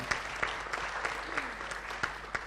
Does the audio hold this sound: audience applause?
yes